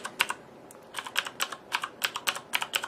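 Keys on a Corsair Vengeance K70 mechanical gaming keyboard clack close up in a quick, uneven run of about a dozen presses, with no talking.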